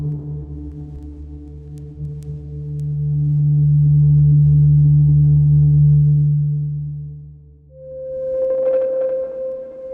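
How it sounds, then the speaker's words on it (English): A loud, steady sine tone recorded through a vintage valve preamp swells and fades, then a higher sustained tone enters with a slight buzzy edge. "the sine wave recorded through a vintage valve preamp"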